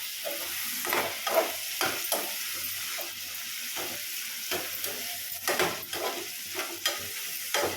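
Onion, green chili and tomato frying in a pan while being stirred, with a steady close sizzle and repeated scraping strokes of a spoon throughout, no talking.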